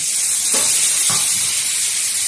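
Slit green chillies frying in hot oil with brinjal pieces make a steady, close hiss, with two brief bursts of crackle as the chillies go in.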